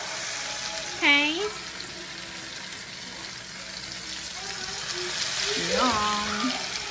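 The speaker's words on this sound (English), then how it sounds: "we're gonna sear the salmon skin down" A salmon fillet sears skin-side down in a hot pan for a miso-glazed dish, making a continuous close sizzle. Brief bits of voice break in twice.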